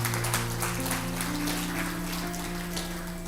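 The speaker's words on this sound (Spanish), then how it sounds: "Dale un fuerte aplauso al Señor." Congregation clapping in a church, a steady dense patter of many hands holding at a fairly even level, with sustained organ or keyboard tones ringing underneath throughout.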